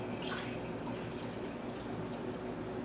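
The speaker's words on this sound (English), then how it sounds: "Pour the wort into the container via the funnel." Wort poured through a funnel into a container for a yeast starter, a steady broadband liquid wash with faint drips, continuous and close for the whole stretch with no talking.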